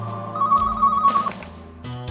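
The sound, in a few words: telephone ringing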